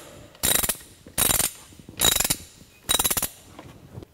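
Four bursts of rapid ratchet clicking as the drain plug on a 2001 Ford F150 front differential is tightened down, each burst about a third of a second, with short pauses between, close and clear.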